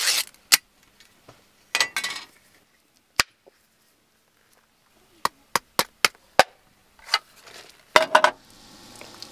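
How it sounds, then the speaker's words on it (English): Spam being chopped with a blade against the metal surface of a Tembo Tusk Skottle, sharp scattered clacks in irregular bursts with quiet gaps between, close and loud. "cut up the spam, get the spam on there first"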